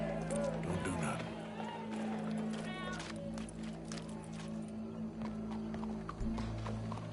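In a PS4 video game, horse hooves clip-clop at a quick running pace alongside a crowd murmur and talking voices.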